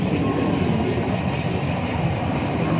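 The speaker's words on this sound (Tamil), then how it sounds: "அப்படின்னா அழகாக வருது ட்ரெயின்." A Lego model train at Legoland Windsor rolls in along its track from a bridge, giving a steady, continuous rumble with no pauses.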